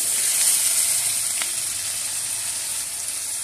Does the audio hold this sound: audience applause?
no